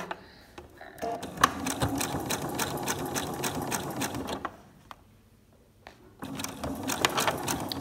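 Sewing machine stitching fabric while piecing concave and convex quilt curves: steady rapid mechanical chatter of the needle in a long run, a short quiet pause, then stitching resumes, close and clear.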